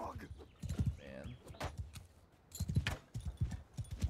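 Horse hooves in the video game Mount & Blade 2: Bannerlord clop in quick rhythmic clusters, fairly close, with a brief neigh early on and pauses between bursts.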